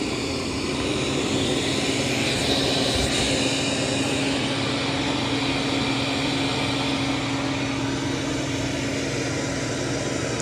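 A Dreame L10S robot vacuum cleaning the floor, a steady continuous motor hum and airy whoosh at moderate level without pause throughout.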